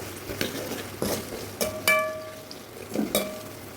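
Shallots and two tomatoes sauté in a pan for a fish curry, a low sizzle under repeated stirring strokes and several sharp metallic clinks of a ladle against the pan, close with no voices.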